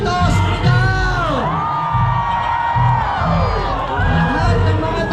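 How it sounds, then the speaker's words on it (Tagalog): A large crowd at the Obando fiesta for Nuestra Señora de Salambao shouts and cheers loudly and close, with swelling whoops and yells over a thumping beat. "Lahat ng nakatatlong araw dito, sumigaw!"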